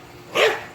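A single short, sharp bark from one of a household's dogs, close by and moderately loud over a quiet background.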